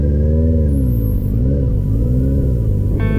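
Bike engine steadily revving and droning up close on the world's highest motorable road in Ladakh, a continuous loud rumble with rising and falling pitch.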